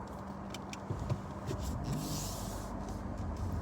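Interior of a moving Audi A4 on a ride, the engine running smoothly with a steady low road and engine hum throughout, a few faint clicks and a brief soft whoosh partway through, no talking.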